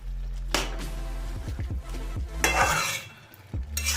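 A spoon scrapes and stirs fried prawns into cooked bottle gourd in a pan with a light sizzle, making several distinct scraping strokes up close, with no talking.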